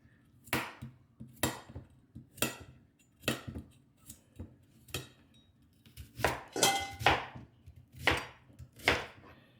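A knife chops through pork riblets on a board for a Chinese riblets-with-daikon dish, a steady series of about a dozen sharp, close strikes at a fairly even pace, speeding into a quicker cluster toward the end, with no talk.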